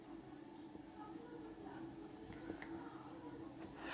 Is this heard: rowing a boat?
no